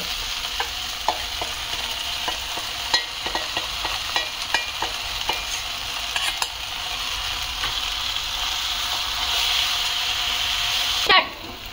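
Spices crackle and pop in hot oil, sharp scattered snaps over a constant sizzle, ending with a brief louder clatter.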